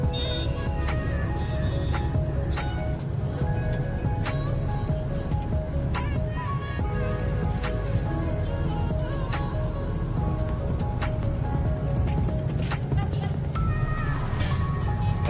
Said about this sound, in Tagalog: Ayun o, medyo may kabagalan lang ang medyo matraffic lang ngayon dito.